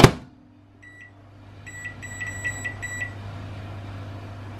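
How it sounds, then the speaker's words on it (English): Microwave oven running with microwavable Mexican vegetables inside: a steady low hum throughout, with a short run of faint high electronic beeps early on followed by a repeated group of beeps. "I'm going to put them in the microwave"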